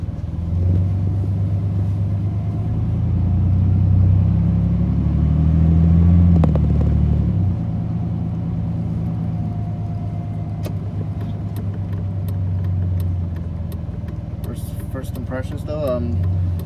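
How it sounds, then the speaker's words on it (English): A 2002 Chevrolet Silverado pickup on a test drive, checking the ABS and parking brake warning lights: steady low engine and road rumble runs throughout, swelling slightly mid-drive, with faint clicks near the end. "I'm going to be taking this Silverado for a test drive once again"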